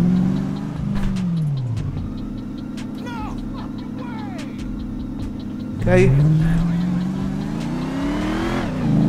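A powerful sports car engine in GTA 5 revs and roars steadily with rising and falling pitch, a sharper rev surging near the end, with a brief spoken word over it.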